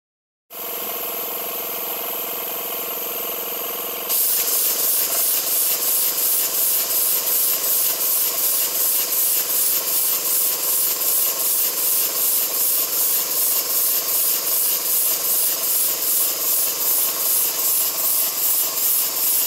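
An air-powered boring tool on a very small compressor at about 20 psi cuts the cylinder of a double Tangye mill engine model. A hiss builds into a loud, steady rasping whir with a fast, even pulsing throughout.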